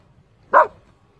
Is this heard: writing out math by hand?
no